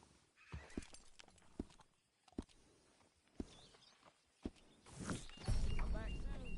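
A horse in Red Dead Redemption 2 with a personalized saddle, sharp hoof clip-clops and knocks spaced through the clip, with a whinny or neigh and louder rustling near the end, partly under talk.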